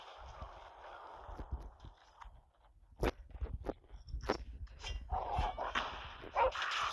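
Several dogs bark in sharp bursts in a Call of Duty video game, some close and some farther off, with whimpers and yips in between and scattered footsteps.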